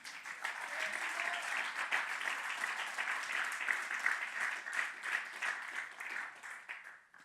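Steady applause rises from a church congregation during a Spanish-language sermon, a moderately distant, even wash of many hands clapping that tapers off at the close.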